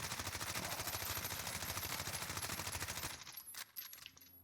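Rapid automatic hip-fire from a Warzone loadout rifle, a fast steady stream of close, loud shots for about three seconds, then a few scattered sharp reports and clinks as the firing stops.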